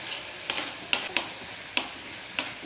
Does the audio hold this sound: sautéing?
yes